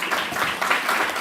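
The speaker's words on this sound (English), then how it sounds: "Let's give them a round of applause." Brief, steady applause from a conference audience thanking two speakers, a thick texture of many clapping hands at moderate loudness, with no voices on top.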